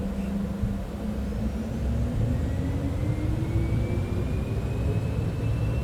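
Citation X business jet engines spool up for takeoff in MSFS 2024, a loud, steady roar with a whine that rises slowly in pitch, sounding near and alone.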